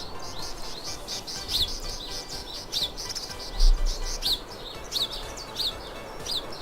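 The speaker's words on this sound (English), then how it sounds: "The birds are right there!" Game birds chirp repeatedly in the video game NEKOKORO, with short bright tweets recurring at a steady pace over a soft ambient background, with no talking.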